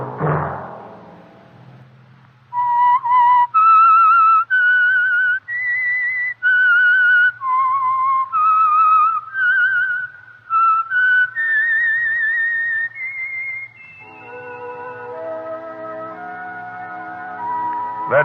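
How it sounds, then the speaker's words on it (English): A lone human whistler performs the signature theme of The Whistler radio show, a clear, loud melody of sustained and stepped notes, ending over soft orchestral chords. "Let that whistle be your signal from the Whistler each Sunday night at this same time."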